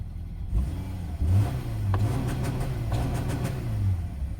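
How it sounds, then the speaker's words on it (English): The 2.0-liter FB20D boxer engine of a 2020 Subaru Crosstrek runs at a raised idle, a steady low rumble with slight rises in revs, close and continuous with no talking. "And what you're hearing there is the 2-liter FB20D engine."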